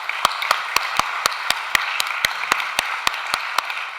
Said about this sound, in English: Please give an applause to our panel